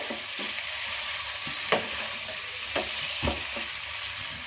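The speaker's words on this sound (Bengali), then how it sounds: "পটলটা দেওয়া হয়ে গেছে তেলে।" Pointed gourd pieces frying in hot oil in a pan give a steady, close hiss of sizzling, broken by a few soft stirring knocks.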